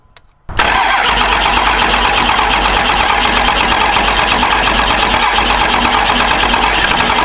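A Cummins diesel engine cranks after a brief quiet start, the starter motor grinding in a steady, loud, continuous churn that never catches and runs on its own.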